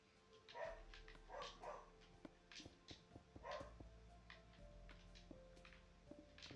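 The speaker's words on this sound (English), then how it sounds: "She's barking away in the background." A household dog barks several times in the background of a room, the barks fairly faint and irregular, with soft ticks and clatter between them.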